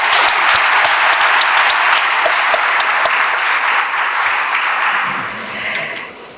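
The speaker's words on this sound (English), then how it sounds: "may we just give ourselves a warm round of applause to welcome us" A hall audience claps warmly in a sustained, dense round of applause at a public conversation event with former President Thabo Mbeki, staying loud and steady before tapering off near the end.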